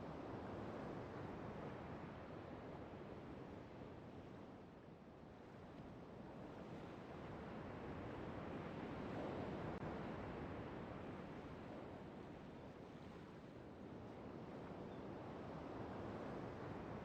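Gentle waves lapping in a bay in the video game Riven, a soft continuous wash that swells and recedes slowly, faint and steady with no voices.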